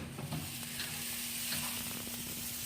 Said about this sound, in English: So I got the tomahawk steak on